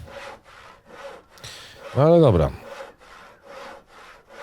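A saw cutting wood logs in the game Cowboy Life Simulator, with steady rhythmic rasping strokes continuing throughout, briefly overlapped by a short spoken phrase midway.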